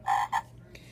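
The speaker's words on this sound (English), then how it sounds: "What's a frog say? Ribbit, ribbit." A toy frog sounds an electronic croak, two quick buzzing ribbits close together and then a fainter third, loud and near.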